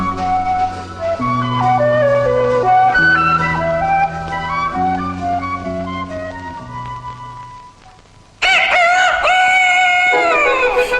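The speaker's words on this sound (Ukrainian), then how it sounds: "Це півник горлястий, а біля нього курочки чубарочки вишукують серед трави поживу." Gentle melodic music plays for several seconds, then a loud rooster crow bursts in near the end, long and rising, over the fading tune, with hens nearby.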